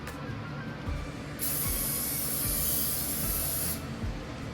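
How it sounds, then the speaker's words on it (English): Butter-flavor cooking spray hissed from a can onto the bottom and edges of a deep-dish pizza pan: one steady, close spray of about two seconds over faint background noise. "I have this spray butter, so I'm just going to spray my pan at the bottom and around the edges"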